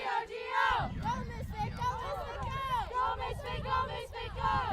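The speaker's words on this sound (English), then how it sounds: "you got the Misfit sideline now cheering on their teammates on the field" Sideline spectators at a women's ultimate frisbee match cheer and shout continuously, a lively crowd of overlapping raised voices and whoops heard fairly close throughout.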